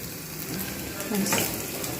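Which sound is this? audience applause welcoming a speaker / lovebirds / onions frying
onions frying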